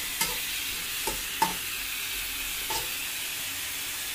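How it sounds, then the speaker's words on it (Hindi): Chopped onions frying in oil in a home kitchen pan for Afghan pulao give off a quiet, steady sizzle, broken by a few sharp scraping clicks as they are stirred. "ये डालने लगे हैं ऑयल, अब डालने लगी है ऑनियन"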